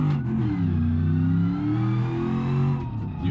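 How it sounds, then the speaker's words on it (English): A V8 manual Chevrolet Camaro ZL1 1LE engine, a 1000 hp car in the BeamNG.drive game, revs loudly and close, the pitch climbing and sliding back as it accelerates, continuous with no talking. "You gotta love a good manual muscle car with a V8"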